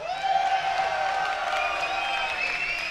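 Tournament crowd at the Combo Breaker 2018 Mortal Kombat event cheering for a player, a sustained mass of shouts and whoops with some clapping that holds steady for a few seconds.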